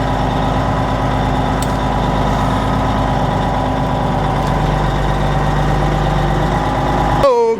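A Freightliner truck engine idles steadily while warming up, a loud, constant low rumble with vibration that holds unchanged throughout before a brief metallic noise at the very end.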